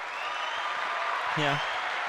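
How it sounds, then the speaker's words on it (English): A brief applause sound effect plays from a soundboard: a dense wash of clapping lasting about two seconds, with a short vocal or whistle-like tone cutting in near the end. "Applause with whistles."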